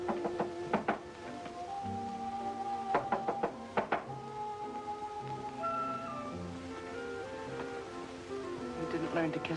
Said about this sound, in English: suddenly there was a knock on the door. Isn't someone knocking?